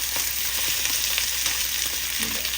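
Steady crackling sizzle of fish frying in hot oil, continuous and fairly loud, with small pops scattered throughout and no voices.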